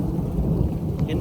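Rain falling during a night of catfish fishing outdoors, a brief steady wash of patter over a low rumble, with no clear speech.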